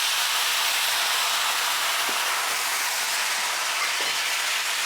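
White wine hits a hot roasting pan with veal, a steady close hiss of steam and sizzle that holds at an even level throughout with faint small ticks.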